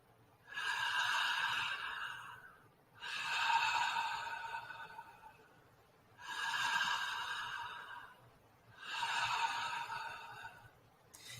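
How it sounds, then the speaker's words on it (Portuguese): Rebirthing breathwork done through the mouth: four long, loud, breathy cycles of air drawn in and pushed out, each lasting about two seconds with brief pauses between, close and clear with no talking. "eu vou fazer o som para que você possa escutar o ar saindo e entrando da minha boca"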